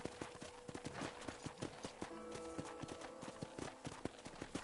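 Horse hooves clip-clop at a steady walking rhythm in the video game Red Dead Redemption, quiet and fairly close, with no speech over them.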